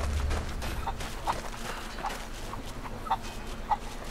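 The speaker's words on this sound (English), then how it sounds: "Catch chickens and throw them into the chicken pen." Chickens clucking in Rise of the Tomb Raider, several short separate clucks at a moderate distance over quiet game ambience.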